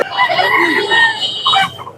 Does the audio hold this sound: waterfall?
no